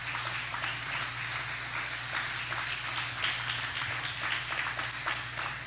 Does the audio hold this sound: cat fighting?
no